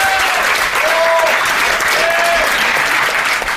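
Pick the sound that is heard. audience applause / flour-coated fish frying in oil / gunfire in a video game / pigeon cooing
audience applause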